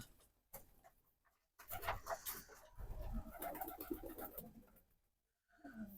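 Pigeons kept in a home loft coo in soft, low bursts that come and go across the stretch, fairly close and moderate in level, with quiet gaps between the cooing spells and no talk.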